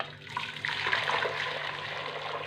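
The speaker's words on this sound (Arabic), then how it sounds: "والماء عندي البنات ها هو طايب، غنخوي قدامكم" Boiled water poured from a pot for cooking spaghetti, a steady close rushing splash of liquid that runs without a break for about two seconds.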